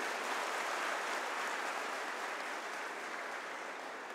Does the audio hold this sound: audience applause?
yes